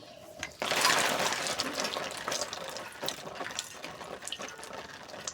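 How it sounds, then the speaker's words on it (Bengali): Water runs from a tap to wash cut vegetables for piyaju, with a sudden start followed by a steady splashing hiss and a few clinks and knocks nearby. The sound is moderately quiet throughout. "সুন্দর করে ধুয়ে বালতি করে রাখতে হবে।"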